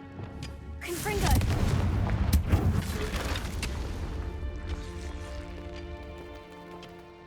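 A Confringo fire spell blasting in the Hogwarts Legacy game: two loud, booming bursts close together, followed by a crackling, rumbling tail that slowly fades.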